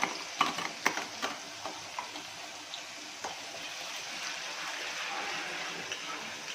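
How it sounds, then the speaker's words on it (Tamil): Sliced onions stir and sizzle in a generous amount of oil in a pan for a mud crab liver fry, with a few scraping stirs early on and then a steady frying hiss. "கொஞ்சம் எண்ணெய் ஜாஸ்தி போடுறது எதனாலனாக்கா நம்ம தண்ணி ஊற்ற போகிறதில்ல, அப்படியே ஃப்ரை பண்ண போகிறோம்"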